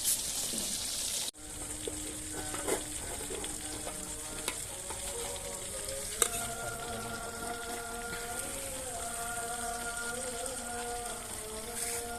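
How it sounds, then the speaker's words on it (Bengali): Eggplant pieces fry in hot oil on a clay stove alongside hilsa fish, with a loud, continuous sizzle that cuts out for a moment, then resumes, joined by faint humming tones in the background. "মাছের সাথে আমরা কিছু বেগুনও ভেজে নেব।"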